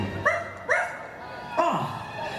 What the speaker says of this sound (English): Zero! Here, boy! Zero! Where is that dog